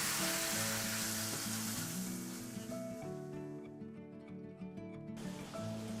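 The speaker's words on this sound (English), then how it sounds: "You just brown it until all the pink is gone." Ground meat browning in a pan for stuffed bell peppers, with a steady, fairly loud sizzle and frying crackle running unbroken throughout, no talking.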